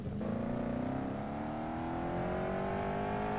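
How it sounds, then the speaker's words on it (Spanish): A car engine revs up in the video game Gangstar Vegas, with a steady rising whine as the vehicle accelerates, loud and close, with no voices over it. "el ruido del motor."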